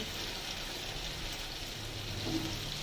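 Poppy seed and green banana curry, spiced with turmeric and coriander powder and a pinch of sugar, sizzles steadily in the pan as it is sautéed. A soft, even frying hiss runs unbroken throughout.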